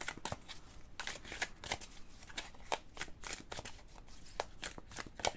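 Tarot cards shuffle in quick, crisp riffles and slaps, close and fairly quiet, repeating steadily with no talking.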